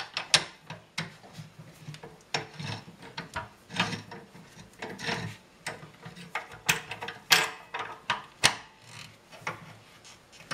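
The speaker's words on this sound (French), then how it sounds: "Pendant ce temps-là, on serre le mandrin." Close mechanical clicking and ratcheting as a wood lathe chuck is tightened around a green-wood blank, irregular bursts of gear clicks and rubbing scrapes spread over ten seconds with quiet pauses between.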